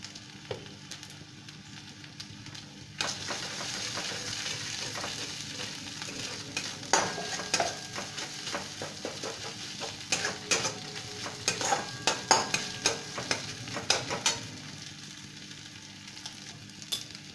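Stuffed capsicum filling with ginger stirred in a pan, a close, continuous sizzle with scraping spatula strokes and irregular clicks and taps against the metal, growing busier toward the middle and end.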